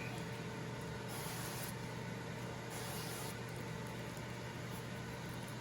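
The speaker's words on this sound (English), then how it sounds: "we're gonna take some avocado oil and we're gonna spray down the chicken" Two short hissing bursts of avocado oil sprayed onto chicken thighs, about a second apart, over a steady low background hum.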